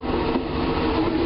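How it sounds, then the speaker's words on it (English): Inside a first class sleeper train running on the track in Thailand, a loud steady rumble and rattle of the carriage with no talk. "We're in our first class sleeper train."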